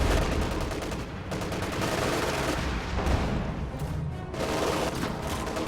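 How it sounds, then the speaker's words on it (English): Panzer IV tanks fire on shock troops in a Company of Heroes 2 battle, a dense, continuous barrage of loud gunfire and booming blasts that overlap with no pauses. "Panzer IV firing on these shock troops"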